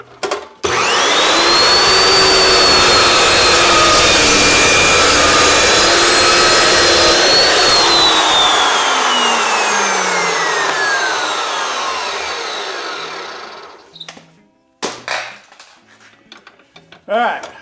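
A power saw spins up and bites through metal bracket stock in one long loud cut, its whine rising and then falling away as the blade winds down, with a few clunks of handling before and after.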